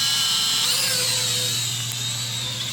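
A National Geographic quadcopter drone's electric motors whine steadily at close range, a continuous high-pitched buzz with no talking.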